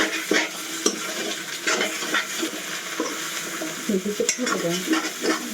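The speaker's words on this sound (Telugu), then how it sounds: "ఇవన్నీ బాగా కలపాలి." Food sizzles in a hot pan while a spoon scrapes and stirs through it in repeated strokes, fairly close and loud, while making a Bengali dish.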